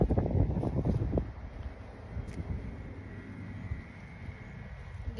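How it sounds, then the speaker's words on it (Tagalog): Wind rumbles against the microphone in a low, gusty roar, heavier at first and then settling into a steady outdoor hush. "Ang hangin."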